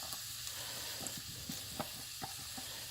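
Bell peppers and mushrooms frying in a pan, a steady close sizzle with a few soft clicks and scrapes of stirring, no voices.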